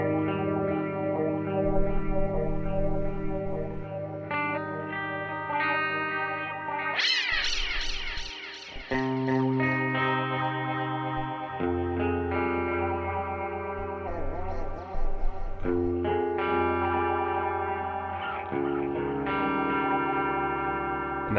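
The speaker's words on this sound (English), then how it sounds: "Sweeper, which is almost like a flanger sort of sound on top of your delay" Sustained instrument notes through a Klowra Everlast delay pedal's Sweeper mode, with a sweeping, swirling flanger-like delay effect, echoing repeats shimmering throughout, played alone without talk.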